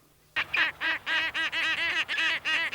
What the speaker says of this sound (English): It's the skua, basically a big, brown, noisy gull.